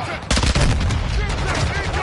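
Sniper rifle fire in an online shooter game, a sharp loud crack followed by a dense burst of rapid shots and rumbling echoes, close and dominant over the short stretch.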